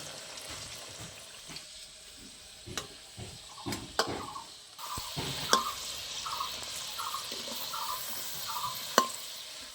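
Potato french fries frying in oil in a pan over low heat, a soft continuous sizzle with scattered clicks and taps of a utensil stirring and turning them, while faint chirping sounds repeat in the background.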